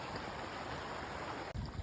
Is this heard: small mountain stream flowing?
yes